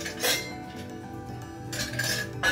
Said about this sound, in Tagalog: first step, lagyan po natin ng ice.